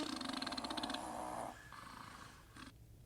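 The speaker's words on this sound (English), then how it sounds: "You hear him snoring?" Rhythmic, raspy snoring breaths up close, a steady pulsing rumble that quiets partway through.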